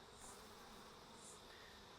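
A soft, continuous hum of honey bees buzzing nearby at a hive entrance as an uncaged queen is introduced, fairly quiet and steady with no voices.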